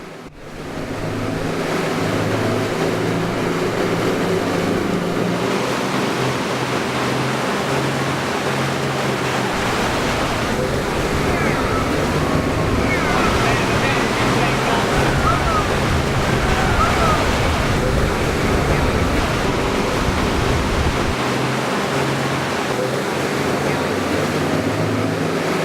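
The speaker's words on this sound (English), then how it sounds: "causing a waterfall up to 5 metres high on a king tide" Broad, steady roar of seawater surging through a narrow coastal gap at the tidal Horizontal Falls, waves and rushing water forming a dense, continuous wash with wind buffeting the microphone throughout.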